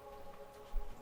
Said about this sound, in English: You cannot go outside right now. It's raining.